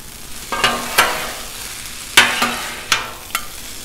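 Potatoes and sausage fry in butter on a Blackstone griddle, a steady soft sizzle broken by several sharp scraping clacks of a spatula turning the food, close and loud, with no talking.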